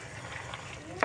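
Beef and vegetables being stirred in a hot pan with a little sesame oil, a soft scrape and faint sizzle, with one louder clack near the end.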